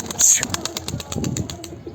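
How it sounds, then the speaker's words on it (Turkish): Rapid wing flaps of a young grey male pigeon taking off, a quick rhythmic flutter close by, with a faint high chirp and some background noise. "Boz erkek yavrumuzu uçuracağız."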